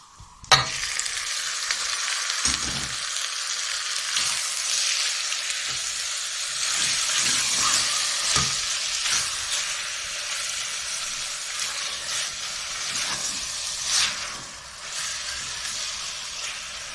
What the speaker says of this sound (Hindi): उतनी देर तक हम कीमे को भूनेंगे जितनी देर तक इसका कलर जो है वो चेंज नहीं हो जाता।